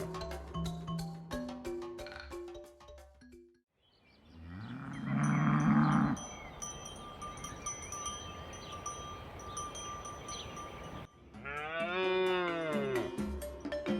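Herero cattle moo in a long, low, drawn-out call, followed after a pause by another rising and falling moo, set among soft background music with no speech.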